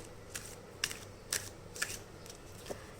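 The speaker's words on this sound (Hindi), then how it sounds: "ओके, तो पहले मैं शफल कर लेती हूँ, then I will take cards one by one" Tarot cards being shuffled, a few soft, quiet riffles and snaps spaced irregularly over a faint background hush.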